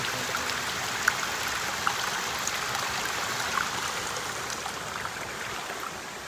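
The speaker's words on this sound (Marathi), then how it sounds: "पाण्याचा झरा।" A small outdoor water spring trickles and gurgles steadily, a continuous close wash of sound with faint splashes and no voices.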